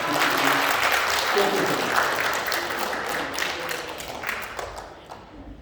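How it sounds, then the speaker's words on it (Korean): A church congregation at a Korean Sunday worship service in Colorado Springs bursts into dense, sustained applause that holds steady and then tapers off at the end, with a voice faintly present beneath it. "특별하게 박수를 한번 부탁을 하겠습니다"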